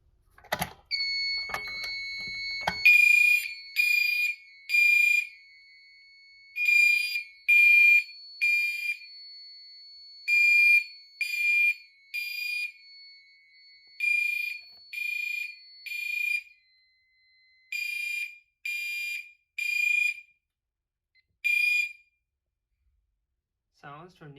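A Fire-Lite AN80 alarm device sounds a fire alarm signal, bursts of loud high electronic tone in steady repeating groups, pulsing for about twenty seconds after a few brief clicks at the start.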